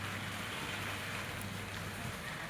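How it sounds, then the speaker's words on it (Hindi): Steady heavy rain, an even, continuous hiss of falling water with no pauses, no voices and no other distinct sounds. "काफ़ी तेज़ बारिश आ रही है, बहुत तेज़"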